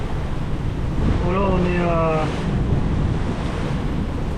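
Ocean waves and steady wind rush around a sailboat under sail with engines off, a broad continuous wash with someone speaking French briefly over it.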